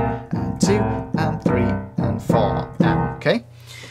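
A shuffled boogie woogie left-hand pattern on piano: loud low repeated notes in a long-short swing rhythm, about two strikes per beat, stopping after a few bars. No talking.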